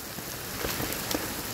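Steady rain falls as a storm blows in over an empty ferry parking area, a soft, even hiss with a few brief louder spatters, heard alone at moderate distance.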